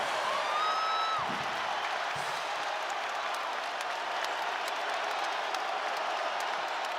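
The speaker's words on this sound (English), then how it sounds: "Crowd really back into it." Arena crowd at a Duke Blue Devils versus Arizona Wildcats college basketball game roaring and applauding loudly and steadily, with a whistle-like tone early on and no clear talk.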